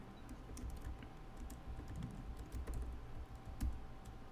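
Keys on a computer keyboard are tapped in a quick, uneven run of close, quiet clicks as a name is entered, with no one talking.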